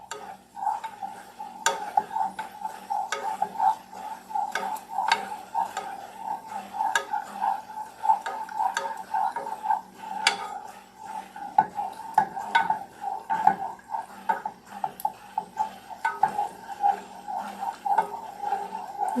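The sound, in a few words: stirring a heating mixture in a pot while making cornbread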